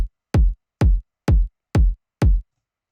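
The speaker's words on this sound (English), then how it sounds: "So first we have the kick drum," Punchy kick drum from a bass house track hits six times at an even, steady pace, each a deep, tight thump with a short tail and silence between, heard alone.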